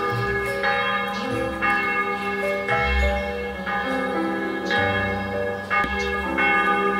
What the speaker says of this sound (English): Yes, ring the bells, my dear friend.